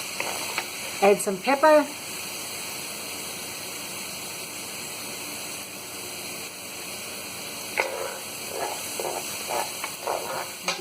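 Chili browning in a pan, a steady low sizzle running throughout, with a person briefly speaking near the start and again toward the end.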